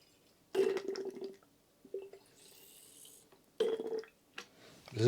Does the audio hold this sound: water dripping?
yes